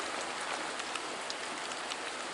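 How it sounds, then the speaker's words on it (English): Steady rain falls outdoors over a freshly mowed yard, a dense, even hiss of drops with no pauses and no voices. "it is rainy now"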